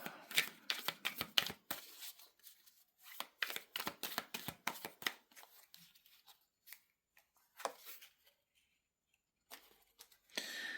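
Advice cards handled and shuffled, bursts of quick crisp riffling flicks in rapid runs separated by short pauses, close and quiet in a still room.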